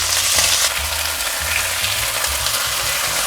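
Halibut fillet pan-fried bare without flour, a loud close sizzle and crackle of oil running steadily with small stirring knocks, no talk.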